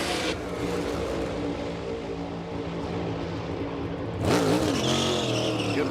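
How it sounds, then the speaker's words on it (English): A NASCAR Cup race car pulls out of pit lane at Pocono; a steady engine drone holds, then a loud rising rev swells near the end as it accelerates away, with no talking. "Michael McDowell exits the pit lane after making his scheduled stop with 10 to go in the stage"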